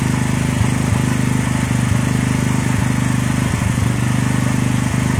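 Honda Megapro Primus motorcycle engine idles steadily during an ignition and charging check, a close, loud, even putter with a constant mechanical hum and no talk.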